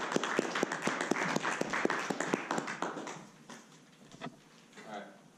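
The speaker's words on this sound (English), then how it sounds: "I want to give a round of applause" A small audience at a Toastmasters club meeting claps in a brisk burst of applause that thins out and fades after a few seconds, heard close in a room.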